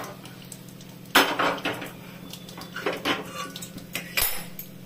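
A metal pan is shifted aside on a kitchen stove, with a sharp clank followed by a few lighter scrapes and knocks of cookware, close and fairly quiet between hits.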